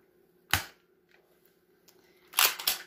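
A Nerf Modulus toy pistol is fired empty without a dart, giving a sharp close spring-driven snap followed later by a second cluster of clacking priming and firing sounds.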